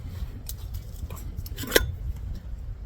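Light metallic clinks and rattles sound as a Stanley cook kit and canister stove stand are unpacked, with a few sharp taps amid soft handling noise, close and fairly quiet.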